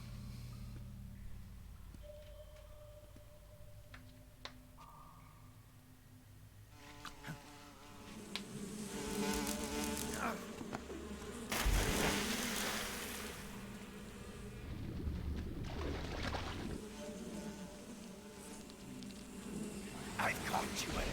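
Swarming bees buzzing in Metal Gear Solid 3, a droning insect hum that builds from faint to loud, with game sound effects and a voice talking over it.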